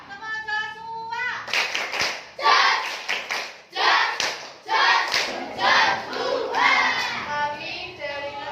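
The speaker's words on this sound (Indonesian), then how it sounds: "Saja tepuk. Siap. Tepuk Joshua." A classroom of children claps together for a classmate named Joshua, a burst of dense hand claps after a voice, with kids' voices mixed into the applause.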